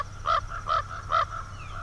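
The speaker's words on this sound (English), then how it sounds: "ravens make more of a croaking sound" A raven giving three hoarse, throaty croaks in an even rhythm, each clear and fairly close, with faint quieter echoes between them over a low background hum.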